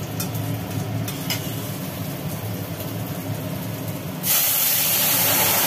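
Boiled lentil dal hits hot oil seasoned with dried chilli and panch phoron in a kadai: a steady sizzling hiss that jumps to a louder, brighter burst of spattering near the end, close up.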